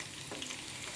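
Chili powder sizzling steadily in hot sesame oil for a mango pickle, a continuous close frying hiss with faint stirring and no voices.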